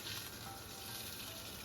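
Fish fried in a non-stick pan, giving a steady, quiet sizzle of oil that holds an even hiss throughout. No voices are heard.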